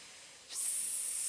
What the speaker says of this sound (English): Let's take it from our engaged exhale, big inhale, and blow.